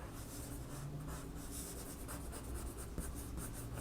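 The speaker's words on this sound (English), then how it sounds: "Draw a couple lines with the way that her hair is being pulled back tightly into the bun maybe." A pencil or pen scratches steadily across paper, sketching quick lines of a figure's hair pulled back into a bun, close and continuous with no voices.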